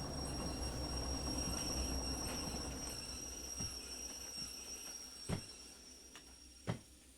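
A freight train in the Derail Valley railway simulator game rolls and brakes with a continuous rumble and a high, sustained wheel squeal, then eases off with a few distinct clunks toward the end.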